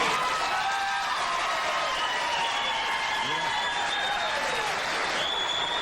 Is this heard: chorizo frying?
no